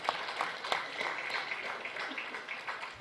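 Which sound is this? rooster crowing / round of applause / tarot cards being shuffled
round of applause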